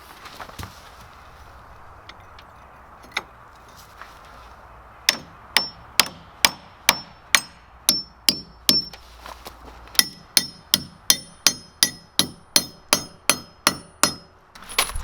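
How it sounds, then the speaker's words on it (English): Sharp hammer blows ring out during a cabin build, first a few scattered strikes, then a steady rhythmic series of close, loud metallic hits that speeds up in the final seconds. "Get a hammer."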